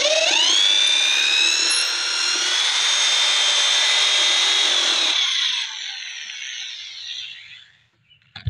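A power drill whines steadily at high pitch for about five seconds while drilling out parts of a barongan mask, then winds down and trails off into quiet with a faint knock at the end.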